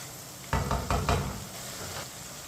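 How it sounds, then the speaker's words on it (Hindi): Ginger and garlic frying in a pan, with a spoon stirring and scraping in a few close, distinct strokes over a steady low hiss. "1 मिनट के लिए पका लेंगे इसी तरह चम्मच चलाते हुए"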